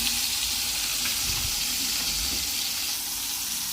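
Green chillies for chutney sizzling steadily in a pan, a dense continuous hiss with occasional soft stirring bumps underneath, close and even throughout.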